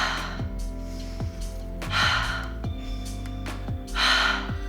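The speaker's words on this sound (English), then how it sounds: "Inhale through your nose, exhale out of your mouth" Breath pushed out through the mouth during a mat Pilates workout, a few soft airy exhales in an indoor class, sitting under a sustained tonal background.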